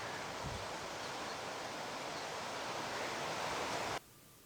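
High sea waves crash at Bandra Bandstand in Mumbai, a dense, continuous roar of surf that holds steady and loud before cutting off abruptly near the end.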